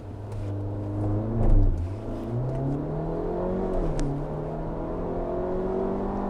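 A VW Arteon R Line launches hard under launch control, its engine revving up loud and close with rising gear pulls and a steady strong drone, no talk over it.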